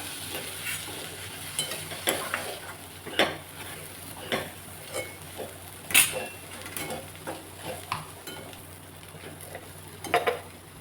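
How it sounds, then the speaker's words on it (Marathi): A spoon stirs roasted sprouted moth beans into spiced oil in a pan. Repeated scraping and clinking strokes sound close up over a soft, continuous sizzle. "ही भाजून घेतलेली मटकी आपण त्यामध्ये टाकणार आहोत छान असं मिक्स करून घ्यायचं"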